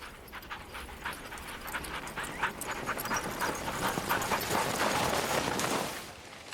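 Team of sled dogs running over compacted snowmobile trail in snowy Swedish wilderness, a steady dense patter of paws and panting breath throughout, fairly close and continuous.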